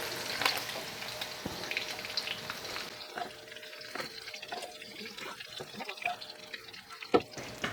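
Shrimp for chop suey sizzles in a hot pan, a continuous crackling fry with occasional clinks and stirring scrapes, fairly faint and close.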